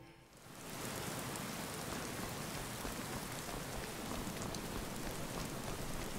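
Steady, dense rain pours in the video game Skyrim, a constant broadband hiss of drops falling on surfaces that swells in within the first second and then holds loud and unbroken with no voices.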